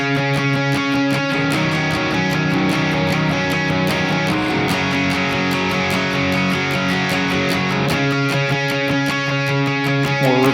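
An electric guitar plays a verse riff at a slow tempo. Muted picked strings and ringing octaves come in a steady, dense, close rhythm throughout.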